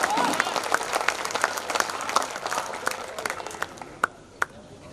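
Audience at a kavi sammelan poetry gathering in Allahpur claps, scattered sharp handclaps over crowd murmur and voices, thinning to a few isolated claps near the end.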